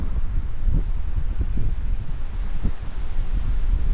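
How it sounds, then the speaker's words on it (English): Wind buffets the microphone during an outdoor walk, a steady low rumble and roar with gusty swells throughout and no voices. "But wind is inevitable."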